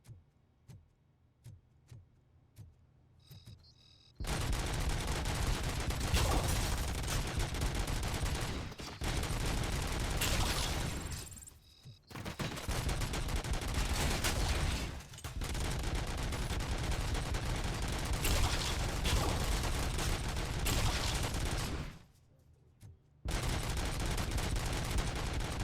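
Gunfire in the video game Robocop: Rogue City, long bursts of dense, rapid automatic shots roaring almost continuously and broken by a few short pauses, after a quiet opening with faint clicks.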